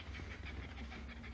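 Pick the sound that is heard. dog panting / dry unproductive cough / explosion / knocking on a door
dog panting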